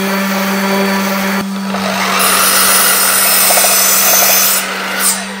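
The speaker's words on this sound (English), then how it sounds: "But while we finish sanding this, which is going to take a little bit of time" A power sander working on wood in a workshop, a loud, steady motorized whine and grinding that holds for several seconds and dips briefly near the end.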